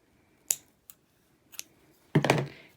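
Scissors trim paper for a Dollar Tree camera-frame photo hanger: a few crisp, separate snips, then a louder, longer cut near the end, close and clear with no talking.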